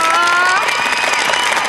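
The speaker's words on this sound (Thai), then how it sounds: "ขอเสียงปรบมือด้วยนะคะ" Audience applause at a Thai television star talent show stage, a dense steady clapping wash that runs the whole moment at close, full volume, with faint crowd noise mixed in.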